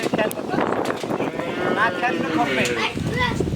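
Cattle at a crowded livestock market where Sahiwal and Brahman cows are being traded, with busy animal sounds and low calls mixed into a steady din of people talking nearby.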